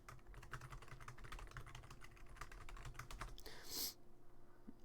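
Rapid, close keystrokes on a computer keyboard as a long passphrase is entered during an encrypted Arch Linux USB installation, a steady run of clicks ending in a heavier key press and brief burst before quiet.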